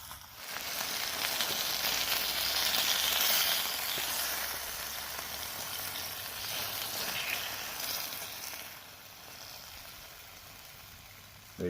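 Peas sizzling and crackling in pork drippings in a pan on an outdoor hike, a steady broadband hiss that swells and eases, close and fairly loud with no talk.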